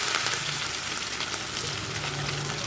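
Mustard seeds and urad dal spluttering in hot oil, a steady close hiss of frying with faint crackles running throughout and no voices.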